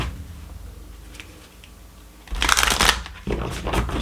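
A deck of oracle cards is shuffled close up, first as soft riffling and handling, then as a loud burst of rapid flicking snaps followed by another run of shuffling.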